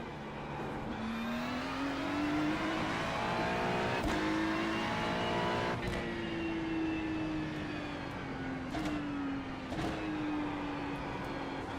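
Race car engine in a racing video game drones steadily with smooth pitch rises and dips through gear changes, a few sharp transient clicks along the way, continuous and fairly loud throughout.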